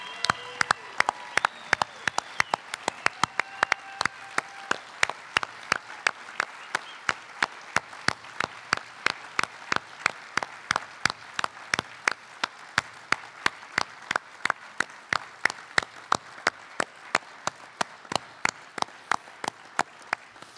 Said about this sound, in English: And standing ovation.